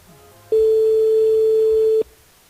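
A single steady telephone tone sounds for about a second and a half on an unanswered call during a radio show, loud and even, with quiet room noise before and after.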